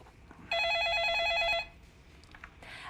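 An incoming call ringing a telephone, a bright warbling electronic trill that sounds loudly for about a second, then stops, leaving a quiet room with faint clicks.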